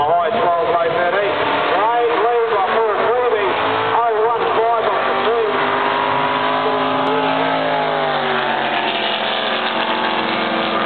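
A Chevrolet drag racing car races a Torana, its loud, raspy engine revving hard, rising and falling, then settling into a long, sustained pull, with a voice talking over it.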